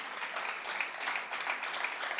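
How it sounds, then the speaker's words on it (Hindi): Fairly faint, steady clapping from a crowd at a poetry recital in Lalitpur, a soft continuous patter of hands in a room with no talk over it. "पहली तो एक बार सौरभ के सम्मान में तालियां बजा दीजिए।"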